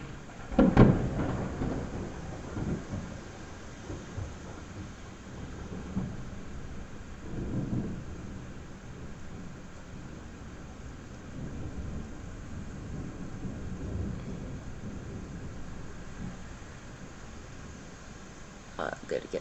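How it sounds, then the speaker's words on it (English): Low, rolling thunder rumbles through a morning thunderstorm, with a stronger burst near the start and softer, drawn-out rumbles over steady rain-like background noise. "It's mostly rolling thunder."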